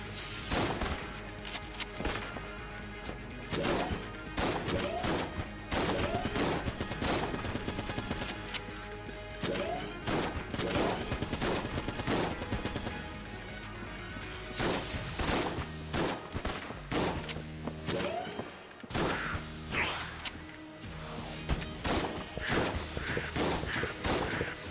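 Dense, sustained bursts of gunfire from a boss spraying bullets in the video game Enter the Gungeon, loud rapid volleys with crashes and thuds running almost continuously and with no speech.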